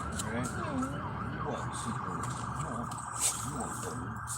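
An ambulance and a state patrol car go by with sirens wailing, the rising and falling tones fairly faint and distant over road noise, with voices murmuring nearby.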